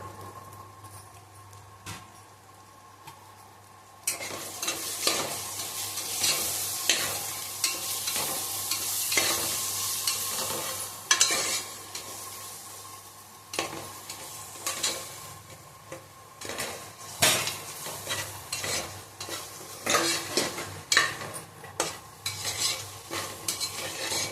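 Spices fry in a pressure cooker for paneer biryani: a steady close sizzle carries repeated scraping stirs and light clinks of a spoon against the metal pot, growing busier after the first few seconds.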